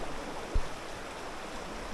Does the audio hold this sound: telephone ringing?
no